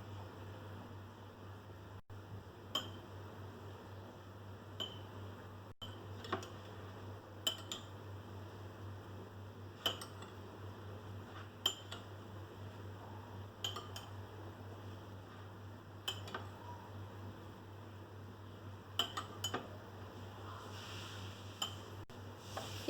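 Food-coloured rice being stirred in a bowl, faint scraping and sharp clinks of a utensil against the dish at irregular intervals over a low steady hum, quiet and close.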